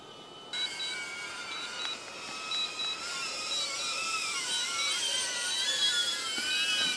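A DJI Avata FPV drone flies back, its high whining motors rising and warbling as it speeds up, heard steadily alongside a repeated electronic beep.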